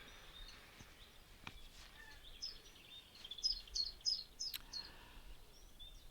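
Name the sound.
chiffchaff singing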